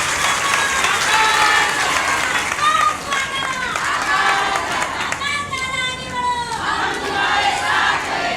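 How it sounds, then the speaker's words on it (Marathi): Loud crowd applause at a public gathering honouring women workers, a dense wash of clapping with shouts and voices mixed in, near and continuous. "एकदा जोरदार टाळ्या वाजून आपण अभिनंदन करतो"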